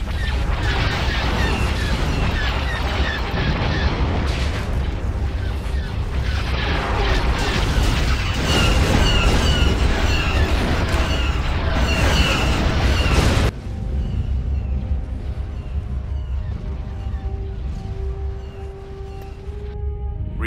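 Heavy, rumbling Star Destroyer bombardment explosions from Star Wars: Empire at War pound continuously in dense, overlapping booms, loud and close, before cutting off abruptly to a quieter mechanical hum.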